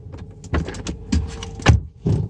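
Infiniti car door locks unlocking, a few sharp mechanical clunks and clicks close by in a quiet cabin, spaced over a couple of seconds.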